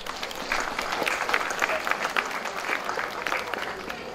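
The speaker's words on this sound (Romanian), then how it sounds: "aș dori împreună să-i și aplaudăm" Audience clapping at an open-air folk festival in Simleu Silvaniei, a steady, dense patter of many hands holding at moderate loudness for the whole stretch.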